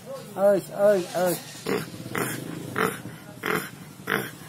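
A man imitates the grunting of a tied-up pig with his voice, a run of about eight short rough grunts and squeals in uneven rhythm, close and fairly loud.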